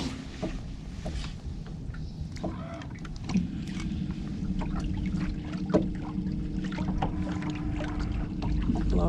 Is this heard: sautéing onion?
no